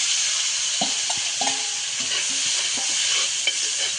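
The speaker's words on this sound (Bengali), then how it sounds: "পেঁয়াজ ডালাইয়া বালা করে লাড়ানি দিব পেঁয়াজটা এখন লাল করানি দিব" Onions fry in a pan with a steady hiss while a spoon stirs them, giving several soft scraping knocks through the sizzle, close and even in level.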